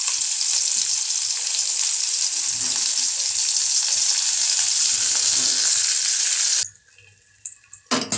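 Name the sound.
raw mango pieces frying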